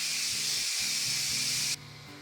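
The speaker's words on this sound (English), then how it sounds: "the steam is almost released" Steam hissing loudly and steadily from the release valve of a Power Pressure Cooker XL after cooking barbacoa, with faint low thumps underneath, then cutting off abruptly near the end and leaving a quieter hiss.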